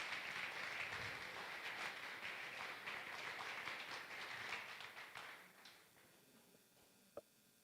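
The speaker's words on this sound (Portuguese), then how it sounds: "A igreja pode aplaudir ao Senhor Jesus bem forte." A church congregation claps together in steady, dense applause that fills most of the stretch, then thins and fades out near the end, with one sharp tap just before it stops.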